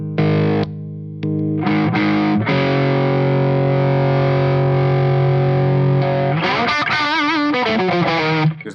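Electric guitar played through an SD1 overdrive pedal into a slightly overdriven tone: a strummed chord rings out long and sustained, then quicker bent and picked notes follow, loud and close with no talk.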